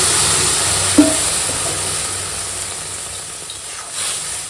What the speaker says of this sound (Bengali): এখন দিয়ে দেবো এই যে হলুদ দিয়ে ভেজে রাখা